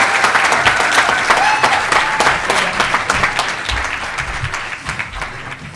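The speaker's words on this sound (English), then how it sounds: "I want you to put your hands together for somebody" An audience at a charity fundraising dinner in Slough applauds as Hamad Ayub is introduced, dense steady clapping that fades slightly toward the end, with a faint voice near the start.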